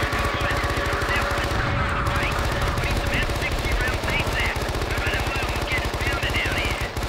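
Rapid, sustained turret machine gun fire from the video game Men of Valor, a dense unbroken rattle of shots that stays loud and close for the whole stretch, with game sounds and voices mixed underneath.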